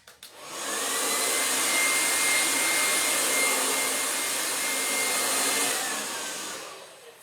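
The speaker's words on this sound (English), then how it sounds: "let's dry with the hair dryer." A hair dryer blows with a steady, loud whoosh, starting abruptly and running continuously for several seconds before winding down.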